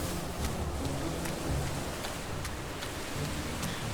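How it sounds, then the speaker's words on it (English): A hailstorm in a realistic weather mod for Minecraft gives a dense, steady hiss of falling ice and rain with scattered sharp ticks of impacts throughout, loud and continuous. "There it is, look at that, we're getting hail."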